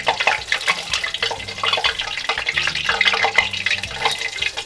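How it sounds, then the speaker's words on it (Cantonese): Dense crackling and sizzling of food frying in hot oil, continuous and close, with faint clinks underneath. "炸到有色就得㗎啦。"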